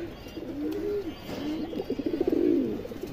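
Pigeons coo in a soft, low, rolling rhythm, several calls overlapping close by, from a loft of fancy breeds such as Kaldom, Silver, Budapest, Bagha and Pankhi kept for a strong call.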